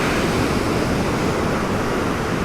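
Loud ocean surf on a misty, cold, cloudy beach, a dense, constant roar of breaking waves close by with no voices.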